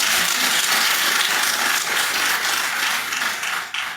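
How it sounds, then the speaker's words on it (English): Dense, sustained applause from an audience at a Microsoft investment announcement in South Africa, loud and steady for several seconds before thinning slightly at the end, with no voices over it. "you can applaud again"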